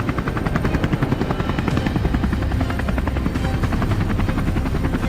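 A helicopter flies steadily overhead during a boar hunt on Georgia farmland, its rotor thumping in a fast, even chop that stays loud and close throughout with no voices.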